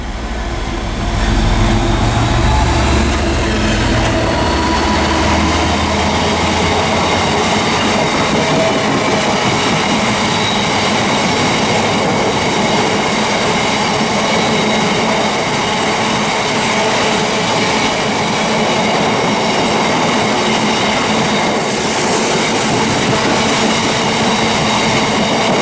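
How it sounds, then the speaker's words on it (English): Freight train 66593, bound from Oxford Banbury sidings to a quarry, speeds through Reading West station on the Great Western Main Line, a loud, continuous roar and rattle of wagons passing close by throughout. "passing now is going to be some more freight from Oxford Banbury sidings to Watley Quarry, speeding its way through just then."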